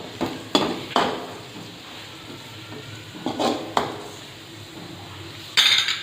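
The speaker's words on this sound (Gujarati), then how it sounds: "ગાજર, કોબીજ એડ કરી અને વ્યવસ્થિત મિક્સ કરીશું।" Grated carrot and cabbage being stirred for cutlets, a spoon scraping and clinking against a metal bowl in scattered knocks over a faint background hiss.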